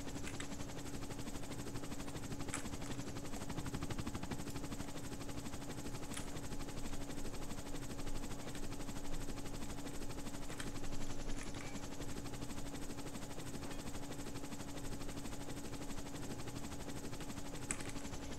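Steady whirring drone of a helicopter in flight in the video game DayZ, continuous and close throughout, with faint rapid gunfire crackling in places.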